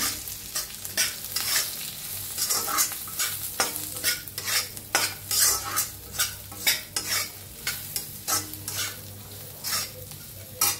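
A spoon stirs salt and coarsely crushed peanuts into a chilli mixture in a sizzling pan, giving steady, close scraping strokes over a constant frying hiss, with no voices.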